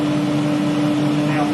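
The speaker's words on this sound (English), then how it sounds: "here's the dust extractor, which is also very quiet." A dust extractor runs continuously with a steady, even whirring hum and a constant low tonal whine, fairly quiet and unchanging throughout.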